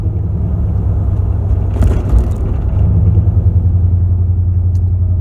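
A 2001 Ford E350 Super Duty van's V8 growls through a stout, low-toned muffler, a steady deep rumble close by while cruising neighborhood streets, briefly swelling before settling back to an even drone.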